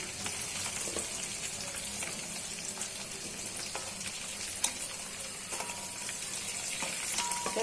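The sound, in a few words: chicken and peas frying in pan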